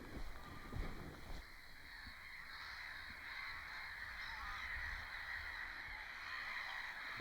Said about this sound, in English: I can hear the birds already.